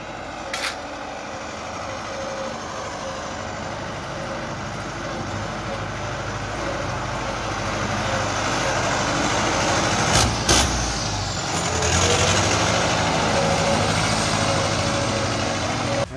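A Valmet 78 Turbo tractor engine with a comb fitted on the turbo runs steadily at idle, a loud, close rumbling drone that rises a little in the second half, with a few sharp clanks near the end.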